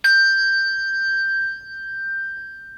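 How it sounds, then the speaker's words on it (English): A single Schulmerich handbell struck once, a bright clear ring with a sharp onset and a long pure tone that slowly decays, heard alone and close. "This one is a Schulmerich bell."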